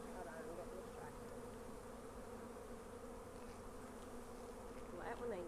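Dense, steady buzzing of many honeybees swarming around hives on a pallet, loud and close throughout, with a faint voice at moments.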